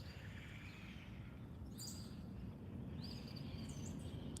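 A blackbird calls outdoors, giving a few faint, high chirps over steady low rumbling background noise, distant and intermittent.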